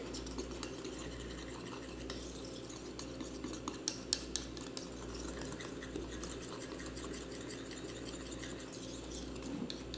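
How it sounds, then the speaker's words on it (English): Whisk stirring a tahini dressing in a bowl, a continuous close scraping and clinking whir with a low hum underneath, no talking. "You're gonna start whisking it together."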